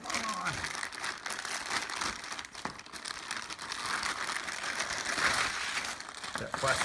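Plastic wrapping crinkles and rustles close up while a Sega Dreamcast keyboard is unboxed, an irregular, fairly quiet crackling that comes and goes.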